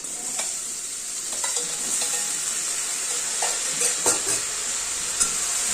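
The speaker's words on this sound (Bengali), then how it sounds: "এগুলো ভালো করে নাড়তে হবে ভাজা ভাজা করতে হবে" Taro stolons sizzle steadily in a hot pan while a utensil scrapes and clinks against it now and then, close up.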